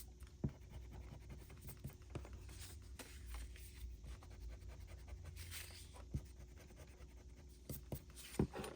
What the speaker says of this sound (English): Let me go ahead and just erase these little marks.